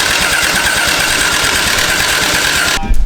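A Toyota 1JZ VVTi engine swapped into a BMW E36 runs loud and steady on its first start, a dense, close mechanical roar that cuts off abruptly near the end.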